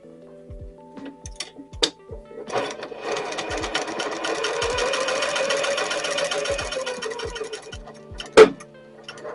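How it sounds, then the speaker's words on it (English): A sewing machine sews a towel topper with a 1/4 inch seam allowance, running in a steady close-up whir for several seconds, with sharp clicks and ticks at the start and a loud clack as it stops. "it's time to sew it together. I'm just going to be using a 1/4 inch seam allowance"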